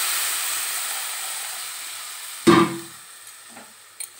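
Fried spice paste sizzles steadily in a pan for a Bengali horse mackerel curry, then water poured in sets off a sudden loud hissing burst that quickly settles to a softer sizzle with a few small clinks.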